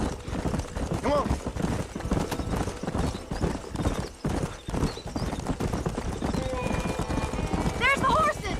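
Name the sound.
horses galloping in video game Red Dead Redemption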